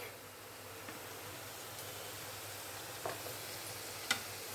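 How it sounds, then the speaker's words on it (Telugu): Sliced onions sizzle steadily in a pan, a soft, even frying hiss with faint stirring clicks and one sharper tap near the end, fairly quiet and close with no voices. "ఇప్పుడు మనకి ఆనియన్ కొంచెం దూరగా వేగితే సరిపోద్దండి"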